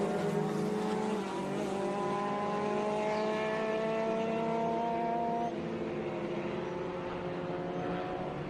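A Lola T70 Mark 3B race car at Sebring roars past close by, its engine note rising through the gears with sustained harmonic tones, loud and continuous.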